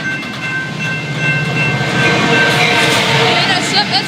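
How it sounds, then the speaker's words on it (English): A train rumbles past on the tracks, loud and close, with steady wheel noise and clatter building toward the end. "Here comes the next train."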